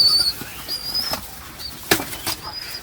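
Pigeons kept at home flap their wings in several quick bursts, fairly close, over light background noise with faint chirps.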